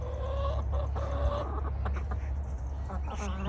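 A broody hen sitting on her nest in a backyard coop clucks and grumbles close by in short, low murmuring bursts, with a few sharper squawks near the end.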